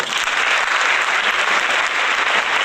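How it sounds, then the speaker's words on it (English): Steady, dense hand-clapping applause, like a crowd's, runs evenly for a few seconds without any talk over it. "the hand clap."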